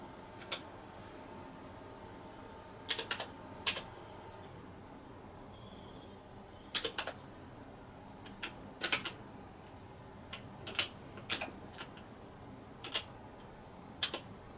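Someone types a username on a computer keyboard while setting up a VPN on Kodi OpenElec. Quiet, sparse key clicks come singly and in small clusters over a faint background hum.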